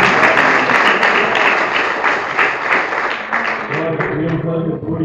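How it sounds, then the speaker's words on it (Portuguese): A church congregation at a youth campaign service breaks into loud applause, dense clapping that swells at first and then slowly thins, with a voice speaking over it. "Vai uma salva de palmas para o Senhor Jesus."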